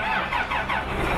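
Tractor engine in the Farming Simulator 2015 video game, starting and running with a steady, loud mechanical drone that rises and falls slightly in pitch, heard alone without talking.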